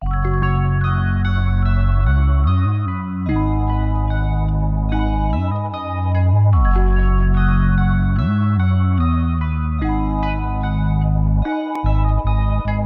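Bright plucked, bell-like synth notes from a Dark Zimbira patch trace a repeating melody over deep sustained bass tones that slide between pitches, loud and without voices.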